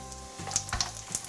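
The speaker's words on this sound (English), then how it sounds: "The Chinese sausage smell coming out, and you can see it's bubbling, and the sides of each piece is starting to be crispy." Slices of Chinese sausage frying in a pan for Malaysian special fried rice, a soft steady sizzle and crackle heard up close, with a few small clinks and pops over it.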